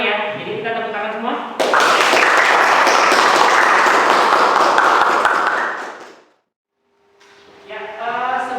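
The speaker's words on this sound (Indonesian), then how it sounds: "Jadi kita tepuk tangan semua." A classroom group claps together in a loud, dense burst of applause lasting about four seconds, fading out into brief silence, with a teacher talking before and after.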